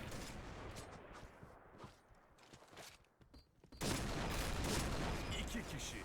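Automatic gunfire in the shooter game Point Blank, starting after a quieter stretch with faint scattered pops, then a loud, dense, sustained burst filling the last couple of seconds.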